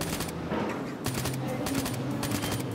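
Gunfire from an accurate gun in a shooting video game, fired at a wall in rapid, repeated bursts that sound loud and close, with a steady roar of game sound underneath.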